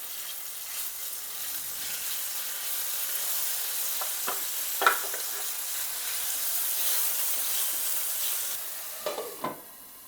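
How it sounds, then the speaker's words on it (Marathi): Cumin seeds and crushed green chilli paste sauté in hot oil with a steady, close sizzle and frying hiss, stirred now and then with a few sharp scrapes and clinks of the spoon against the pan. "जिरे आणि मिरचीचा ठेचा हे चांगलं असं परतून घेते"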